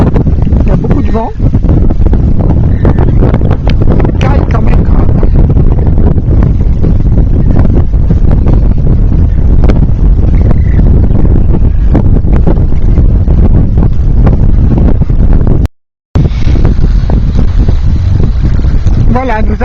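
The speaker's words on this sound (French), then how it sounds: "Il y a beaucoup de vent." Strong wind buffeting the microphone on the salt flats in Bolivia's Salar de Uyuni region, a loud continuous roar under someone talking, cut by a brief silent gap near the end.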